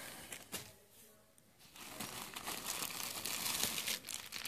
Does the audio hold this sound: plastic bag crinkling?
yes